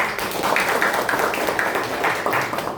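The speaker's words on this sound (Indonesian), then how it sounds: "Oke, tepuk tangan." Hands clapping from a classroom or school audience in Bekasi, a quick, rhythmic burst of fairly close claps lasting a few seconds without talk.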